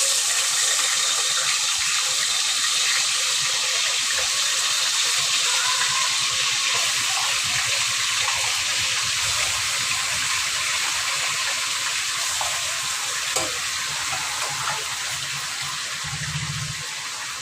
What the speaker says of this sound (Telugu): ఇప్పుడైతే బాగానే వేడైంది ముందుగా కడిగి పెట్టిన మటన్ వేసేస్తున్నాం